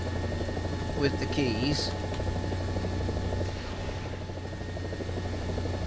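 A helicopter in the War Thunder flight simulator, a continuous droning rotor and engine hum that stays steady throughout while someone speaks briefly over it.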